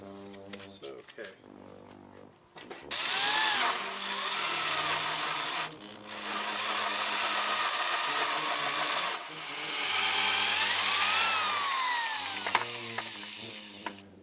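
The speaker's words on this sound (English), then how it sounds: "So you're going to want to clear the sawdust out of the hole from time to time as you're drilling." A power drill bores holes in wood for the rungs of a homemade swim ladder, its motor whining in several long bursts that rise and fall in pitch, with a voice talking briefly before and between.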